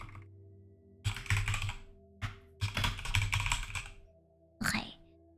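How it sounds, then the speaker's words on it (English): Rapid typing on a computer keyboard in several dense bursts of clicking keys, loud and close, with short pauses between them over a steady low background hum. "I will type it for you."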